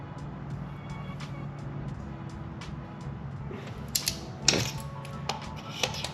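Ratcheting torque wrench tightening spark plugs on a BMW B58 engine, a series of quick mechanical clicks and ratchet bursts close by, with louder clicks near the end and no talk.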